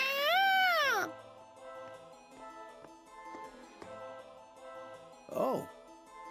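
A cat meows in the video game Labyrinth of Galleria: The Moon Society, with one long, loud, wavering meow up front and a second shorter call near the end, set over quiet game music.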